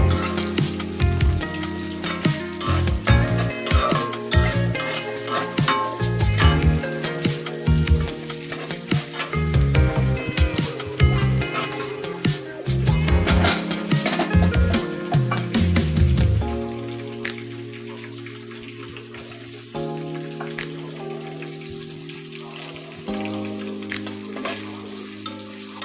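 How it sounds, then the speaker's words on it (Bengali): Onion frying in a pan with cardamom and cinnamon, part of a homemade desi chicken curry; a steady close sizzle runs throughout with repeated clattering stirs and scrapes of a utensil, easing into a softer, calmer fry in the last stretch. "পেঁয়াজটা আমি ভালোভাবে ভেজে দেবো।"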